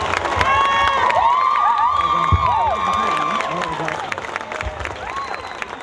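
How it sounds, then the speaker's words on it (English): An audience at Captain Paul Watson's speech applauds and cheers, a sustained wash of clapping layered with whoops and shouted voices that holds steady throughout. "One more big round of applause for Mr. Captain Paul Watson."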